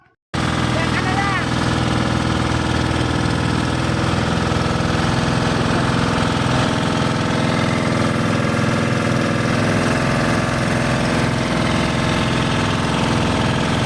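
A steady, loud motor drones throughout, a constant mid-pitched engine rumble with no breaks, like a boat motor running close by.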